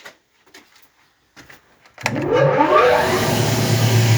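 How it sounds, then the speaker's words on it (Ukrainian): A custom-built crusher machine starts after a few faint knocks, its motor spinning up sharply and then running loud and steady at close range. "запускаю дробілку"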